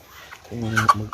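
Native Kabagis chickens cluck close by, a few short, harmonic calls rising in the latter half of a brief moment on a farm where the hens are laying eggs.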